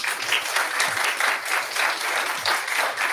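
An audience at a township committee meeting claps, a dense steady burst of applause filling the whole short stretch at close range, with no clear talk over it.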